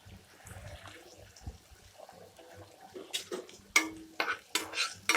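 Onions, curry leaves and crushed garlic fry in hot oil in a pan, with soft low sizzling and clinks of a spoon scraping and stirring that turn louder and sharper in the later seconds.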